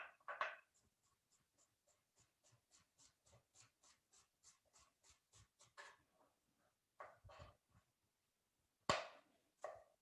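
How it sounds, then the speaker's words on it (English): A knife taps rapidly on a cutting board in an even run of about twenty quick, light chops while food is finely diced into a tiny brunoise, followed by a few louder, scattered knocks in a quiet kitchen. "with the knife, I want to cut it into a nice, as we say in the industry, brunoise, which is a very, very, very tiny cut."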